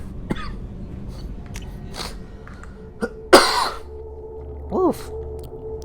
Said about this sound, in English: Oof. Sneaky cough.